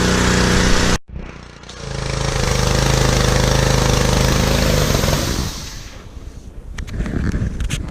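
A pressure washer's small gasoline engine runs steadily with its fuel valve shut off, a loud continuous drone that cuts out briefly, resumes, then grows rougher and more uneven toward the end.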